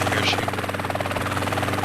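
Helicopter flying in the video game GTA San Andreas, a steady rotor buzz and engine drone running continuously and fairly loud.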